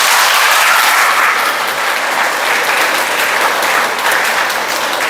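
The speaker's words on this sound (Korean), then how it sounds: "어른들이 박수 좀 쳐주세요." Adults in a church congregation applauding, a dense, loud, sustained round of clapping from many hands that holds steady for several seconds.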